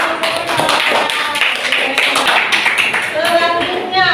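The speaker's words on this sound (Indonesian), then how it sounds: "tepuk tangan untuk kelompok." Classmates clap for a student group at an Indonesian school class presentation, a dense burst of hand claps sustained throughout, mixed with voices talking over it.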